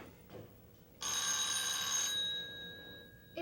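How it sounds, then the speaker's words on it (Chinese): A telephone bell rings in one sustained, bright burst lasting about a second, fairly loud against a quiet room, then fades into a lingering tone. No one speaks. "一定是你的电话啦，去接啦。"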